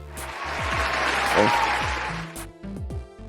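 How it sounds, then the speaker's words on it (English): A steady round of hand clapping from a group, continuing for a few seconds alongside a low background of voices. "I had to give a hand clap for delineation."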